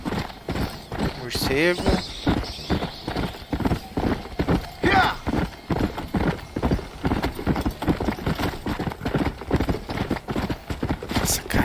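Horse galloping in Red Dead Redemption Undead Nightmare, a brisk, steady clip-clop of hooves throughout with a whinny near the start, while someone talks over it.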